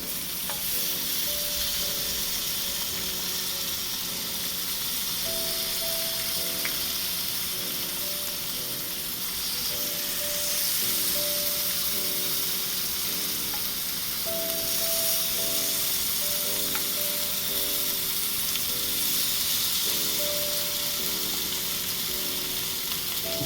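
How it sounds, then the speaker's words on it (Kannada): White salmon fish coated in Gandhari chili masala frying in a shallow pan of oil, a loud steady sizzle and hiss throughout as the pieces are turned, with faint scraping of the spatula and no talk. "ಇವಾಗ ಫಿಶ್ ಒಂದು ಸೈಡ್ ಫ್ರೈ ಆಗಿದೆ. ಇವಾಗ ಟರ್ನ್ ಮಾಡ್ಕೊಳ್ತಾ ಇದ್ದೀನಿ."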